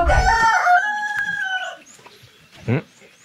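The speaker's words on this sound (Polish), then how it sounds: "Kogut pieje." A rooster crows loudly and close by, one long drawn-out call that rises and then trails off, followed by a short squawk near the end.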